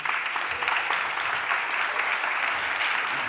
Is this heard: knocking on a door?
no